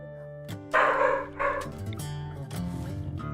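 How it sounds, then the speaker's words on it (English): Several household dogs bark loudly in a few bursts close by, over steady background music from a RimWorld game session. "My dogs are so loud."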